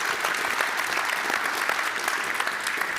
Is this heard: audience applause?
yes